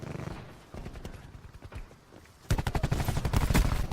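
A belt-fed machine gun fires in a video game, with rapid bursts of shots that grow louder and denser partway through and carry on without pause.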